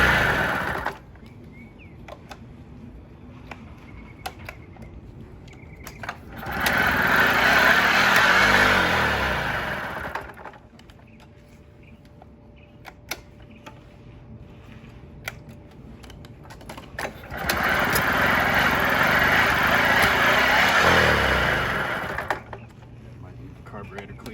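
A Kinetic TFR moped engine, its carburetor just cleaned, revs up in two loud bursts of several seconds each, with a quieter idle and ticking mechanical noise between them.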